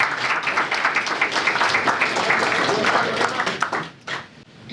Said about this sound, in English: We get another big round of applause.